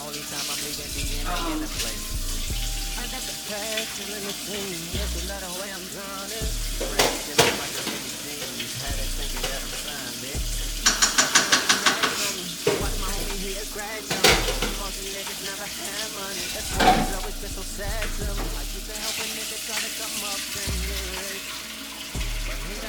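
Small pieces of chopped steak frying in a pot for nachos, a continuous sizzle with repeated stirring scrapes and clatters, some rapid clicking bursts, and talk now and then over the cooking.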